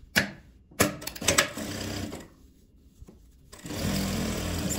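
A sewing machine topstitches a fabric organizer in short bursts of fast mechanical clatter separated by pauses, with a steadier run at the end, close and clear.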